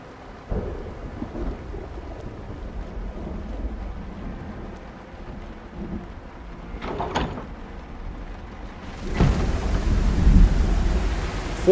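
Stormy weather in the Project Zomboid video game: steady rain and a constant rush of wind, with a sharp crack of thunder midway and a louder surge of rain and wind toward the end.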